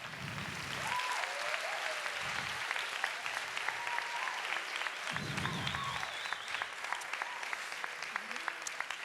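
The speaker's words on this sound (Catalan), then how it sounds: "Un aplaudiment." Sustained audience applause at a Marató charity dance event, steady and dense throughout, with a few brief voices and cheers rising over the clapping.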